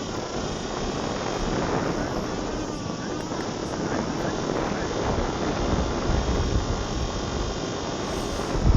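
An FPV foam-wing model airplane flies with a steady, buzzing electric propeller drone under constant wind rush on the microphone, fairly loud and continuous throughout.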